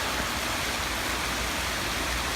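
Steady, even rush of a waterfall heard from a distance on a rainy Swiss mountain day, a broad continuous hiss with no breaks and no voices.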